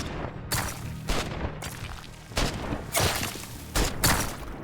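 Video game gunfire in a demo of an RPG, with bullets striking armor: several loud bursts of shots and impacts arrive in clusters with brief quieter gaps between them.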